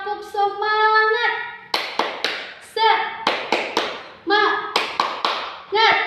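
Children chant a short cheer phrase in Indonesian and answer it with sharp rhythmic hand claps, loud and close, alternating voiced calls with bursts of taps in a classroom setting.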